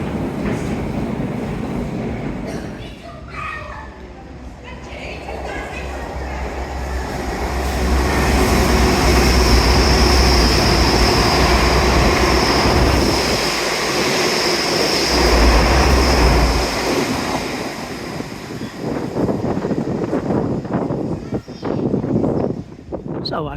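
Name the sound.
train passing through a station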